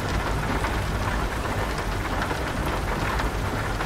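Steady heavy rain hisses in Euro Truck Simulator 2, a dense continuous wash with low rumbling thunder beneath, with no voices.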